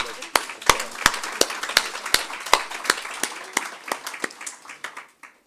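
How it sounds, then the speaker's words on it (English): Audience clapping at an annual lecture on the Kingston Harbour cleanup project, a run of sharp, fairly sparse claps that thin out and fade toward the end. "Can we give him a round of applause?"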